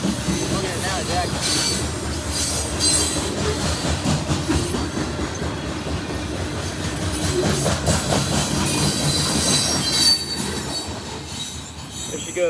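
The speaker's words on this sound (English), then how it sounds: "There she goes, CSX SC70M with the ES40 DC leading, or trail leading." A CSX mixed freight train led by an SC70M and an ES40DC locomotive rolls past close by, with continuous loud rumbling, clattering car wheels and high squealing from the rails throughout, some voices faintly mixed in.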